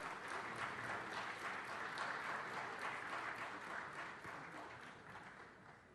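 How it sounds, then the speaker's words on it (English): Sustained applause fills a city council meeting chamber, a steady broadband patter of many hands clapping at once, holding strong throughout and easing slightly toward the end. "Let's give him another round of applause."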